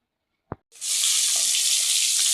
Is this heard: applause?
no